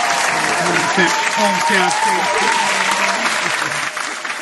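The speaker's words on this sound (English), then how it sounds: "Give him a round of applause, ladies and gentlemen." An audience applauds loudly for baseball great Pete Rose at a live show, dense sustained clapping with some crowd noise, while a voice speaks over it before it tapers off near the end.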